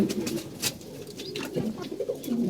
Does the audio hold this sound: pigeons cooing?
yes